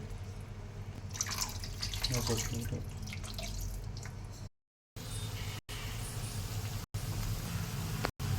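Water pours and trickles in a steady stream into a spiced cabbage Manchurian mixture, with people talking nearby and a few abrupt silent breaks.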